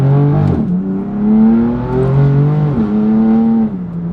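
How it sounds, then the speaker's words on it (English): BMW M4 CS with the S55 engine, its raspy exhaust note droning and rising under load, close and steady for several seconds, with one brief lift in revs early on and no talking. "So there is that little bit of S55 rasp that peeks its head through there"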